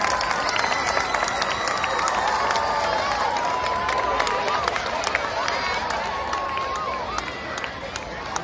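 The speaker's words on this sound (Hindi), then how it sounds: "तालियां, जोरदार तालियां बजाएं।" Audience applause with cheering and scattered whistles at a public address in Hindi, a dense, steady wash of clapping from a large crowd that holds at the same level throughout.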